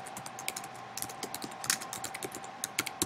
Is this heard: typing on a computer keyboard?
yes